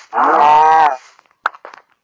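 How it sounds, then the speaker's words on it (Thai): A cow in Minecraft Pocket Edition gives one loud, close moo lasting most of a second, followed by a few faint clicks and soft game sounds. "วัวหาย วัวหาย วัวอยู่นี่"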